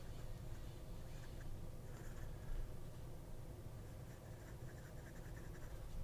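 A broad, very wet Hongdian fountain pen nib with an architect-style grind scratching across paper, a faint continuous scratchy rustle of strokes with no talking.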